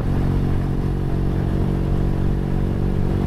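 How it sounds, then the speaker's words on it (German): A BMW R1200 GS Adventure motorcycle engine runs in a steady, loud, close-up low rumble with even throbbing pulses and no speech. "Ich kann das so einstellen, dass ich nur den Motorsound habe."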